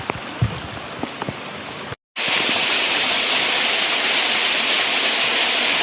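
A river swollen after heavy rain rushing loudly and steadily at close range, a broad continuous roar after a brief cut, with fainter water noise before it.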